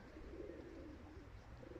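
Pigeons coo softly and continuously, a low, faint burbling call repeated through a brief moment with no voices.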